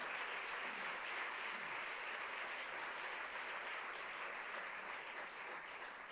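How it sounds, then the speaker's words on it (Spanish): Sustained audience applause at an institutional welcome session of a philanthropy conference, a steady dense wash of many hands clapping throughout, fairly even in loudness and heard alone. "un aplauso a la iniciativa que lleva Rosa, que lleva Julio"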